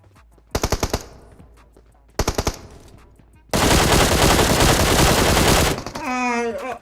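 Gunfire in the PUBG Mobile battle royale game: two short bursts of rapid automatic shots, then a long, loud sustained barrage ending in a ringing tail, with no talk over it.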